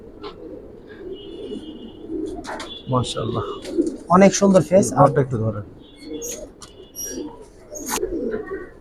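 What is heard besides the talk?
pigeons cooing in a loft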